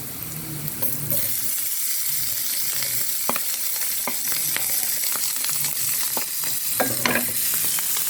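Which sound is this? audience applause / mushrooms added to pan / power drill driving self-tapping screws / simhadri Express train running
mushrooms added to pan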